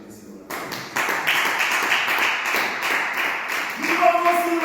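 A church congregation bursts into sustained clapping and cheering in praise, a dense wash of hands and voices that swells loudly after a brief pause and holds steady to the end.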